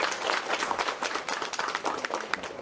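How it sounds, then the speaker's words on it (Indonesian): An audience at a stuttering and Dayak Maanyan karaoke song contest in a village claps for the participants, a dense burst of applause from a moderately distant crowd. "tepuk tangan untuk peserta dulu"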